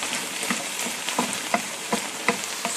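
Vegetables with spoonfuls of garlic, salt and pepper fry steadily in a pan, a constant close sizzle broken by regular scraping stirs roughly every half second.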